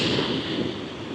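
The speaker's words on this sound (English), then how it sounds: "It's a very windy day." Wind gusts across the jetty at Brigantine, New Jersey, buffeting the microphone with a steady broadband roar that stays loud and close for the whole moment.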